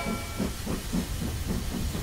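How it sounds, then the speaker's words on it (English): A cartoon steam train sets off with rhythmic chuffs of hissing steam, about six regular puffs at a steady pace with no talk over them. "Let's go, Mr. Train."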